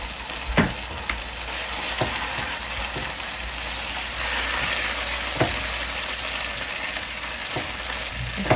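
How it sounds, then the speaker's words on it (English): Garlic toasts in a pan for a meat-sauce Alfredo pasta, giving a steady close sizzle with a few light scrapes and taps of stirring. "Let's get this garlic nice and toasted, fragrant and aromatic."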